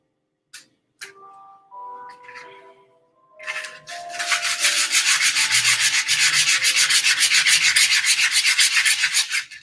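A carved wooden wand being sanded with sandpaper: a few scattered scrapes at first, then steady, close, rapid back-and-forth rubbing strokes that continue loudly to the end.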